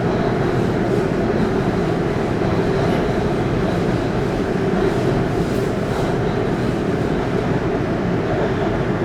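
Steady rumbling roar inside a Bangkok MRT Blue Line metro train running between Tha Phra and Bang Sue, continuous and fairly loud with no clear voices.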